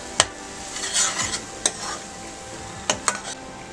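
Ground masala paste sizzles in tempering oil over a low flame while cooking Malvani stuffed crabs. It makes a soft, quiet frying hiss, broken by several sharp scrapes and clinks of a spoon stirring the pan.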